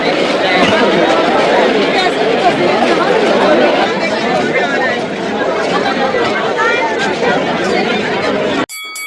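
Dense crowd chatter at a busy bullion market during Dhanteras festival shopping, many overlapping voices forming a steady, loud babble close around the listener, cutting off abruptly at the end.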